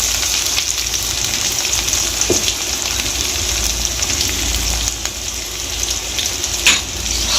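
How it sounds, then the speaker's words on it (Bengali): Chopped onion fries in hot oil with dried red chilli, cumin, cinnamon and cardamom for potol chingri, a loud, constant close-up sizzle with a couple of faint clinks. "এবারে আমি কুচিয়ে রাখা পেঁয়াজটা দিয়ে দেবো"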